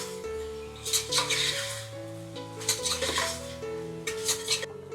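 A spoon scrapes and clinks against a metal pot in three separate bursts while masala spices for mutton paya are mixed, with steady background music running underneath.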